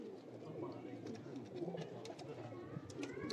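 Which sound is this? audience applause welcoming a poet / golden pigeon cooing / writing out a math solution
golden pigeon cooing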